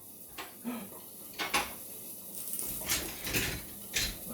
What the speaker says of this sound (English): And stir for about 30 seconds.